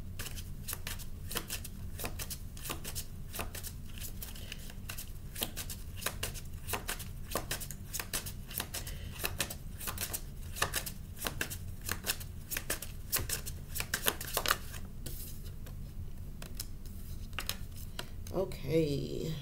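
Tarot cards are shuffled over and over in quick crisp riffles, a steady run of soft papery bursts close by, with someone talking quietly at times.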